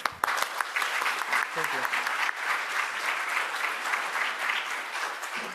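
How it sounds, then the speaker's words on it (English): An audience at the CLARIN2024 conference applauds a speaker, a dense, steady wash of clapping that runs through the whole stretch with a brief spoken thanks near the start. "let's give Tanya good applause."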